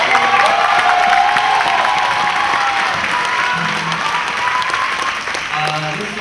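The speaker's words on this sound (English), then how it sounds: "could you please give a round of applause to Veda" Audience applauds for a young performer, Veda, in a loud, steady round of clapping with light cheering and some voices beneath it, tapering slightly toward the end.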